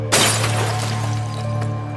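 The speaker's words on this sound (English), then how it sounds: "we'd heard glass being smashed" Glass smashes inside a family house at night, a sharp, bright shatter bursting at once and ringing briefly over a low steady hum, with no voices.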